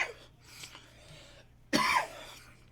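A sudden, harsh cough bursts out close by after a stretch of quiet breathing and faint murmuring, one loud hacking fit.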